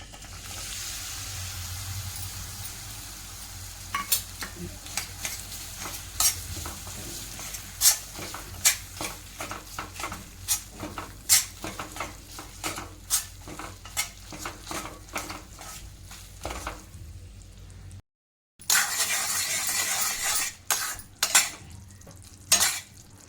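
Jaggery melting in ghee in a pan for a puffed-rice laddu syrup, with a spoon clicking and scraping against the metal in steady irregular strokes and a faint sizzle underneath, close up with no talk.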